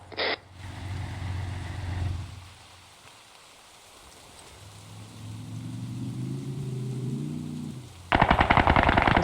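Sustained machine gun fire with tracer rounds in the military shooter ArmA 3: a dense, rapid burst of loud, crisp shots that starts abruptly near the end after a stretch of low rumbling ambience, with a shorter burst at the very start.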